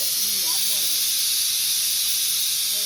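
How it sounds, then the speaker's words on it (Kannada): Steady, loud steam hiss fills the whole short stretch from a pressure cooker on the stove after its whistles while mushroom biryani cooks. "ಅಲ್ಲಿ 2 ವಿಸಿಲ್ ಬಂತು."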